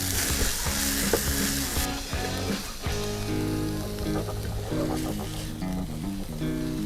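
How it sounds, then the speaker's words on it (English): Spinach, scallions and white mushrooms fry in a pan with a steady, close sizzle that runs throughout, joined by occasional stirring scrapes. "our spinach, scallions, and white mushrooms have been cooking for another 2 minutes"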